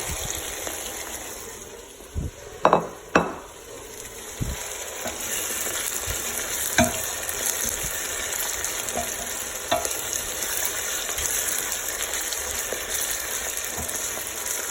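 Carrot and celery frying in oil in a pan for a beef ragu, a steady close sizzle throughout with a few louder stirring clatters near the start.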